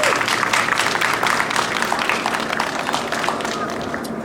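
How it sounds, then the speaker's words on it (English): A crowd applauds singers after the national anthem at a Veterans Day commemoration in Temple City, steady clapping from many hands that gradually thins toward the end. "Let's give them a big round of applause for that beautiful rendition."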